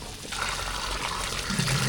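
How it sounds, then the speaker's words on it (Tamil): Tamarind water poured into a pot of sambar, a steady close-up liquid splashing and trickling that continues for the whole short stretch. "லாஸ்ட்டாக வந்து புளி தண்ணி சேர்த்துக்கலாம்"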